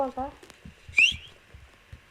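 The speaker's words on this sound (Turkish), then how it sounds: "Ha bak gördüm gördüm bak ıslık çalıyor" A brief, rising whistle rings out once amid soft tapping and clicking sounds, with a voice briefly at the start.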